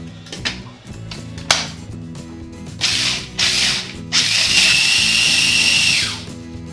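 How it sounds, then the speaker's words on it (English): Small food processor pulsing walnuts for a pie crust, several short clattering mechanical bursts and whirring pulses, the last one longer and sustained, with no talk. "we're going to put half a cup of walnuts into a food processor"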